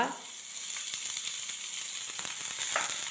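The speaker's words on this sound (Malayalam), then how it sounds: "സവാള ചെറുതായി അരിഞ്ഞത് ചേർത്തു ഇതൊന്ന് വഴറ്റിയെടുക്കണം നമുക്ക്" Chopped onion, ginger and green chilli sauté in a pan for rava upma, producing a continuous bright sizzle with scattered faint scraping ticks, close and steady.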